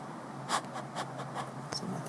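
Pencil eraser rubbing quickly on paper while a graph of a piecewise function is being drawn, a few short soft scrubbing strokes in a quiet room.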